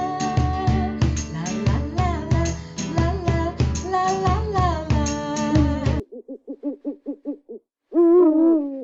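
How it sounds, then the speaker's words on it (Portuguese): An owl's hoots: a dense run of loud tonal calls, then a quick series of short, softer hoots, followed by one longer hoot, all close and clear, with no talking. "Acho que é uma coruja."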